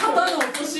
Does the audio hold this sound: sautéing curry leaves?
no